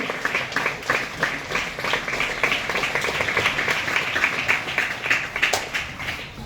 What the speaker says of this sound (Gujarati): આપણે આ સન્માનને જોરદાર તાળીઓથી વધાવીએ